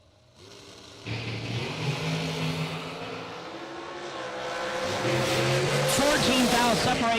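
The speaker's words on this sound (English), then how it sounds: "We are finishing up round number 1, Mickey Thompson dragster categories." A dragster at a bracket racing event in the Mickey Thompson dragster category roars loudly, its engine note holding steady and then climbing as it accelerates away, with an announcer talking over it.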